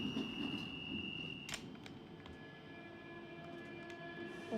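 In the Open BVE simulator, a London Underground Central Line train pulls away from Notting Hill Gate under automatic train operation, with a steady low rail rumble, a faint whine and a few brief clicks.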